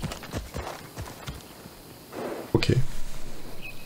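Horse hooves clip-clopping in the video game Assassin's Creed Odyssey, a steady walking rhythm of sharp hoof knocks that grows louder and closer toward the end, with a brief snort.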